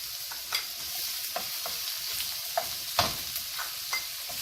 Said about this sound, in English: now I want to saute this